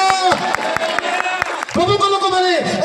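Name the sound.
congregation clapping hands for the Lord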